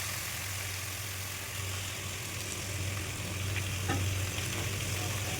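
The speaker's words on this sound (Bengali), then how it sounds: "খুব ভালো করে কষিয়ে নিয়েছি এবার জল দিয়ে দেবো" Spices sauté in a pan with salt and turmeric, giving a steady, close, even sizzle with soft stirring scrapes, without a clear splash of added water, no voices.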